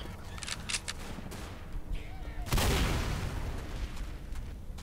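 An explosion booms through gunfire in a Left 4 Dead co-op match, a loud broad blast rising suddenly midway after scattered shots and chaotic game noise.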